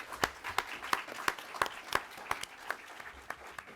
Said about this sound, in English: Please join me with a round of applause for all of our speakers